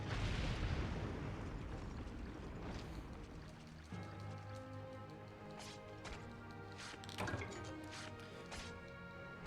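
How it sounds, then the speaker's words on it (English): Monster Hunter Tri game audio with a loud opening blast fading into rumbling debris, followed by layered tonal music and sharp crackling bursts, no talk. "Stylish bombing."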